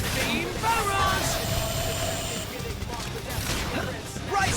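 A beam barrage attack in Xenoblade Chronicles X unleashes a dense, loud, continuous stream of rapid blasts and sweeping energy bursts, with a voice talking over the combat.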